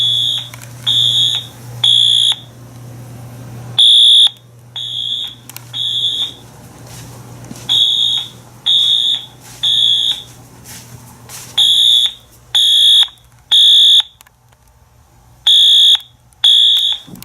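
Fire alarm horn strobe sounding during a system test, sharp electronic horn blasts in a regular on-off pattern, loud and close over a low steady hum, with no voices.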